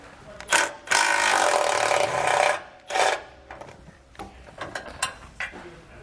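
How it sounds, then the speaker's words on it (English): A ratchet with a 13mm socket turning out the frame bolts of a steering stabilizer on a 2019 Jayco: a long rapid ratcheting buzz, then shorter clicking bursts and scattered taps, close up, no voices. "We'll use a 13mm socket to remove those."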